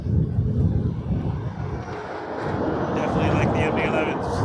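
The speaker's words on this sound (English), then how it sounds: "MD-11 coming in soon" A McDonnell Douglas MD-11 airliner comes in to land at Toronto Pearson airport with a rumbling engine roar that dips briefly and then swells again near the end.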